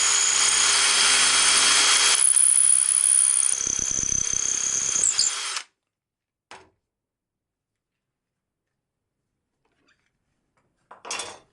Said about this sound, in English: This one actually I was able to drill most of the way through it.